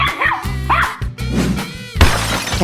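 A dog in a 3D animal sliding game gives several quick yips and barks, close and loud, broken up by crashing game effects.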